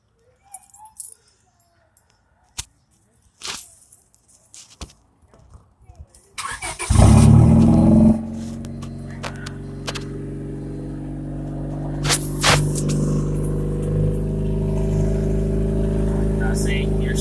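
A car engine with its muffler removed cranks and catches, bursts loud as it revs, then settles into a raw, loud idle with a few more revs; a person talks faintly before it starts.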